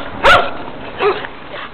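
A dog on a street gives two short, sharp barks about a second apart, fairly close and loud against a low background hum.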